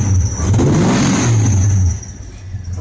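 A Ford 351 Windsor V8 with a freshly fitted exhaust is blipped: a loud throaty rev rises and falls back, then the engine drops to a rumbling idle.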